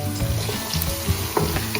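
Onions fry in a pan with cardamom and cinnamon, giving a loud, close, continuous sizzle with small crackles and faint stirring, and no voices over it.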